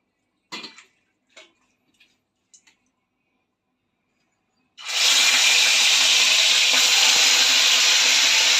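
Prawns slid into hot mustard oil in a kadai over a medium flame: a few soft taps, then a sudden loud, steady hiss of frying that holds to the end.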